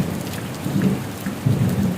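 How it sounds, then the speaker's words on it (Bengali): Heavy rain pours steadily with low rumbling thunder rolling through, swelling in two deep waves over the constant hiss of the downpour. "প্রচণ্ড বৃষ্টি হচ্ছে"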